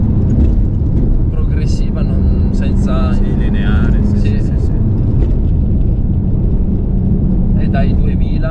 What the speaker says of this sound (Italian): Infatti si sente anche lo scarico che fa più casino.